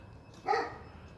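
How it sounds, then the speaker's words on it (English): A single short dog bark, fairly distant and moderately loud, against a quiet background with no talk. "She's barking at something."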